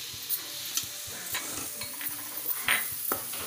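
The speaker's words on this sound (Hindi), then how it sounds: "मटर डाल देंगे।" Peas tipped into a frying pan while making stuffed bell peppers sizzle steadily as a spoon stirs and scrapes, giving soft clinks and scrapes against the pan close by, with no voices.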